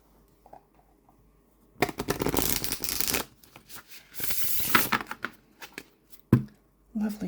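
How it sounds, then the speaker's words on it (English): A linen-finish tarot card deck is shuffled up close, with two long riffling bursts of crisp card flutter separated by quieter handling, then a few soft taps near the end. "And we'll look at the shuffle."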